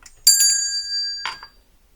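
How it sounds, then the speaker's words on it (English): A small bell rung twice, each strike giving a bright, clear ring that lingers and fades in an otherwise quiet room. "I want to ring a bell."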